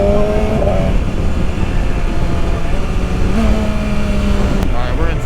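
A 2021 BMW S1000RR motorcycle engine pulls steadily in sixth gear under light throttle, a loud continuous drone with wind rush that holds level throughout and rises slightly in pitch.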